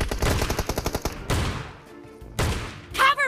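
A new shotgun in PUBG Mobile fires in a fast run of loud, punchy blasts, then two more separate bursts after a short lull, all close and sharp.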